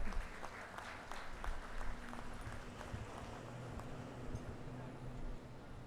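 Sustained applause from an audience at a university convocation ceremony, steady and moderately loud throughout, with many hands clapping at a distance and faint murmuring underneath.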